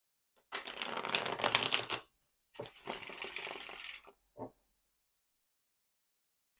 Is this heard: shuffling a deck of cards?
yes